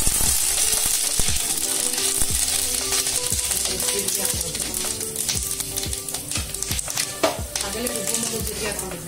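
Curry leaves crackle and sizzle loudly in a generous amount of hot oil for a spicy green chilli palya, a continuous dense frying hiss with sharp popping bursts throughout, under faint background talk.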